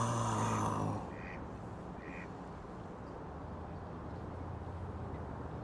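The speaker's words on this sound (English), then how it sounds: "How many ducks?" Several ducks quack in two short bursts after a loud opening noise, over a steady hiss of background noise, at Brookville Park in Queens, New York.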